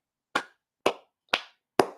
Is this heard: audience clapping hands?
yes